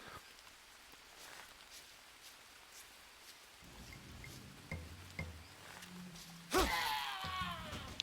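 Rain falling in the jungle survival game Green Hell: a faint, steady hiss with a few soft thuds and a brighter burst of noise near the end, with no talking.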